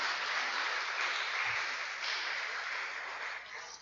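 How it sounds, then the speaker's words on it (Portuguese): A church congregation applauding during a worship service, a dense, steady wash of clapping that continues without a break and thins slightly toward the end. "Todas as palmas são para Jesus."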